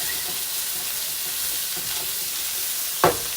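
Garlic and butter sizzle in a hot pan during beef stroganoff prep, a steady close frying hiss with a short loud clatter near the end.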